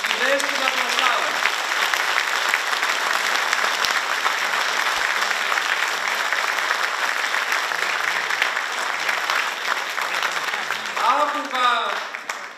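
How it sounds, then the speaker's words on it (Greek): A church choir event audience breaks into long, loud, sustained applause from a large crowd, dense and continuous, with a few voices surfacing near the end. "ένα πολύ μεγάλο χειροκρότημα στη Δέσποινα Πλαστάρα."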